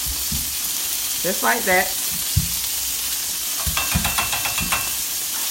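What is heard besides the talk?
potatoes frying and sizzling in a small skillet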